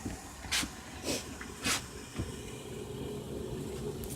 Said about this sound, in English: The steam is flowing out of there pretty good.